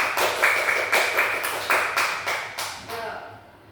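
A classroom of students clapping together in a quick patterned rhythm, bursts of close, crisp claps repeating in regular groups for a few seconds before trailing off.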